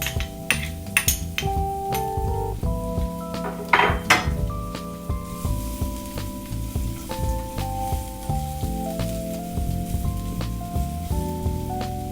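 Garlic sautéing in olive oil in a pan, a loud, steady close-up sizzle with a few clinks of a utensil against the pan, over a constant hum.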